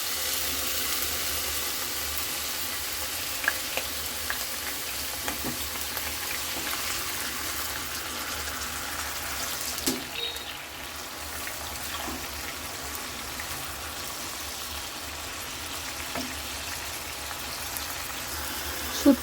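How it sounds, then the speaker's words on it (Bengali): Frozen onions frying in hot oil for a dried-fish dish, a steady close hiss of sizzling with faint crackles and occasional small pops, no voices. "এখন পেঁয়াজটা আমি সুন্দর করে লাল লাল করে ভেজে নিব।"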